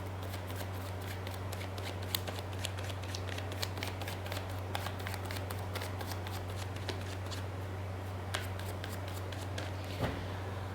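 Tarot cards are shuffled by hand in quick, crisp riffles and rustles close to the mic, repeated continuously over a steady low electrical hum.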